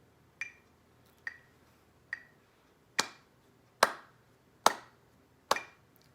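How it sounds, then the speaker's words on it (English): Single hand claps in a slow, steady rhythm during a trumpet-lesson rhythm exercise with a metronome at 70, seven sharp separate claps, the later ones louder and close by, with no talking. "let's clap this one."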